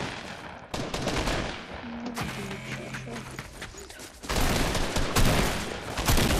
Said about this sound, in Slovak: Tam sa strieľa.